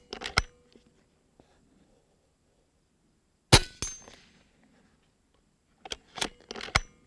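Integrally suppressed air rifle fired at full power, its shot a sharp muted crack near 3.5 s that fades quickly, set between other brief clanks and clicks at the start and end.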